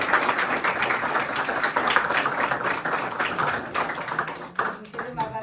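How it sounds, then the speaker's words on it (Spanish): An audience applauds after a presentation on native sheep and goat breeds, close, dense clapping that carries on steadily and then thins and breaks up toward the end. "Un aplauso."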